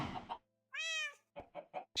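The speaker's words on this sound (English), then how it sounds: "She's got a cat." A cat in the Minecraft video game gives one clear, drawn-out meow, followed by several short, soft game blips after a burst of other game noise at the start.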